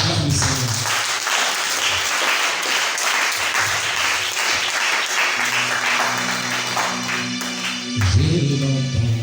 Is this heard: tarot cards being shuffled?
no